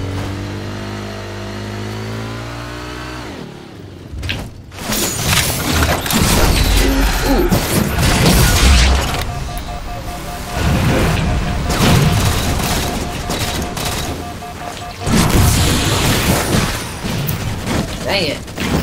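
Halo 4 rocket launcher explosions boom loudly in several bursts amid constant game noise, engine-like rumble and gunfire, with a player talking over parts of the action.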